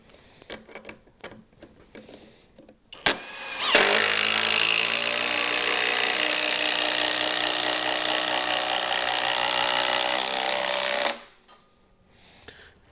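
Kobalt XTR impact driver drives a screw into wood: a few light handling knocks, then a loud, close, continuous hammering whir for about seven seconds that stops abruptly, followed by quiet clatter.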